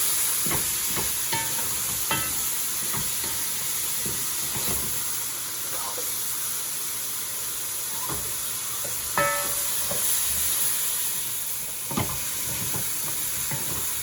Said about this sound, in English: You're going to mix it all up, and it's going to start to deglaze your pan.